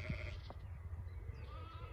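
Sheep bleating outdoors in a field where ewes and lambs graze, a single clear bleat near the start over low continuous background rumble and faint ambient noise.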